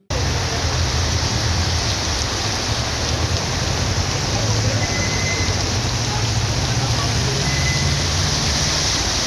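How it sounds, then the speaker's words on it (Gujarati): Steady, heavy rain falls in Valsad district, a dense, unbroken hiss that carries on loudly for the whole stretch with no voices over it. "લાંબા વિરામ બાદ જિલ્લામાં ફરી વરસાદી માહોલ જોવા મળ્યો હતો"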